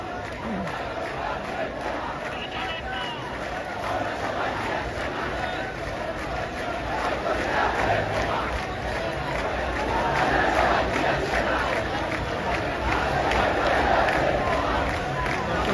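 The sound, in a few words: protesters chanting slogans at rally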